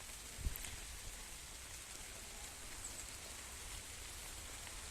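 Rain falls outdoors over a garden with cucumbers and cabbage, a steady soft hiss with a faint brief tap near the start, with no talking.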